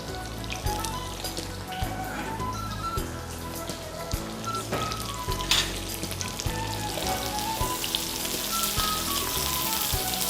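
Ginger and other ingredients fry in a little oil for an asanka dish, a close, steady crackling sizzle with dense spattering pops that builds slightly louder toward the end.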